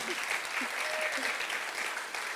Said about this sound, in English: if we give him another round of applause